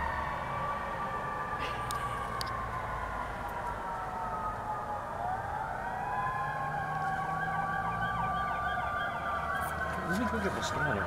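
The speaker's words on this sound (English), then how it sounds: "You like sirens." Fire truck sirens wail steadily at a moderate distance, with rising and falling tones sweeping over a constant background rumble and occasional faint horn-like accents.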